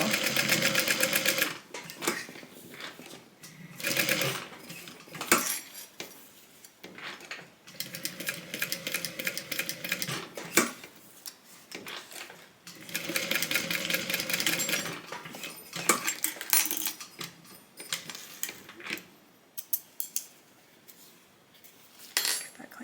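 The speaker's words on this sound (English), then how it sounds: "And then I'm going to just sew a rectangle." A sewing machine stitches a folded, adjustable tote bag strap in rapid whirring bursts of needle clatter, broken by short pauses between seams.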